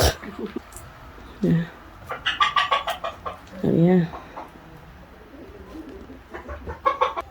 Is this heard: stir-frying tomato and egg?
no